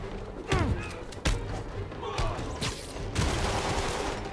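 Gunfire from the video game Marvel's Spider-Man, a burst of sharp shots and thuds, the loudest near the start and around one second in, with more bangs scattered through the rest and a voice heard faintly between them.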